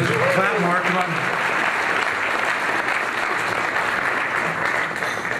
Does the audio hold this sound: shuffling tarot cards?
no